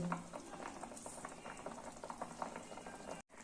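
Kofta curry with green chillies and garam masala bubbles in a covered pot, a close, quiet stream of irregular popping and gurgling that cuts off briefly near the end.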